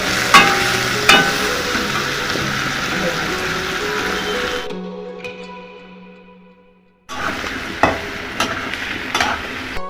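Onions for a rustic chicken curry sizzle loudly in a pan with scraping and stirring. The sound fades and drops out completely for about two seconds, then comes back.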